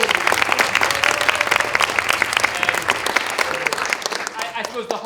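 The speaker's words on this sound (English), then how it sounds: "So a big round of applause for them." An audience at a school fables performance applauds the students working backstage, sustained brisk clapping from many people that is full and close before tapering off near the end, with some voices mixed in.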